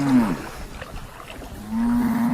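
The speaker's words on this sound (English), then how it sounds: "by a small herd of cows" A small herd of inquisitive cows lows near a river, one drawn-out moo at the start and another rising moo near the end, with a quiet gap between.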